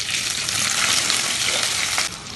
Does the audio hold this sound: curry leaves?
yes